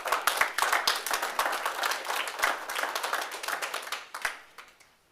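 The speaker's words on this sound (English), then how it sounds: "quick round of applause for them and putting that together" Short round of applause from a small audience at a city council workshop, brisk overlapping hand claps close by that thin out and fade over about five seconds.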